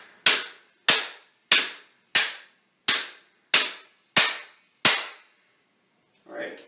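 Eight sharp, loud impacts strike a plastic gun fitted with an Aridus Industries universal Q-DC carrier during an impact test, evenly spaced about two-thirds of a second apart, each ringing briefly, with a faint rustle at the end.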